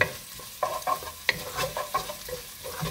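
Garlic sautéing in a pan, a close sizzle broken by repeated clacks and scrapes of a utensil stirring, uneven in rhythm with no voices.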